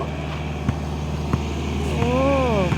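A farm tractor grading the ground for a basketball court, its engine droning steadily close by with a few sharp knocks, while a voice speaks over it toward the end.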